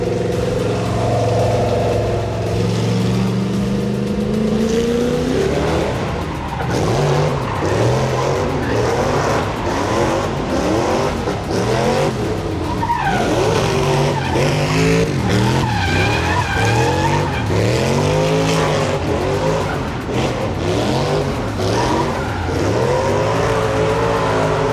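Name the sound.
drift car skidding with tire squeal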